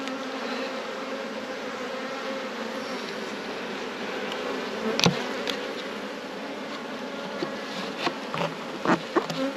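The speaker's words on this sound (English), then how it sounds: "these Northumberland bees, they're nice big bees. These are dark queen bees, British black" British black bees from Northumberland, dark queen stock, buzz densely around beehive nucs, a steady close hum with occasional louder passes of individual bees.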